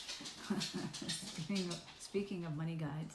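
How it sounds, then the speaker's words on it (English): A pet dog whimpers and whines in high, wavering cries in the background while a person talks indoors. "Sorry, that's my dog."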